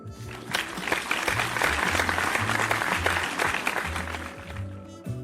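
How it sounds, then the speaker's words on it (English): An audience claps in a sustained round of applause at the close of a show, with steady, dense clapping and music playing underneath. "Give yourself a round of applause."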